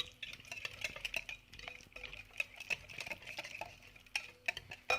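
A spoon mixes salt into a cabbage tarator sauce in a bowl, giving soft, irregular clinks and scrapes against the bowl, close and fairly quiet, with no talk.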